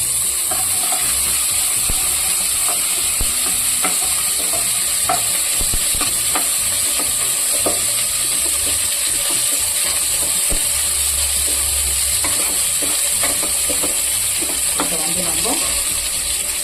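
Small sambar onions frying in oil with cumin for a country chicken curry, a continuous sizzle with scattered scraping and stirring clicks throughout.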